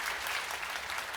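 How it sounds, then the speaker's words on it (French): Studio audience applause on a French TV game show, a steady dense clapping that fills the whole brief moment, loud and close with no voices over it. "Applaudi par votre concurrente en plus."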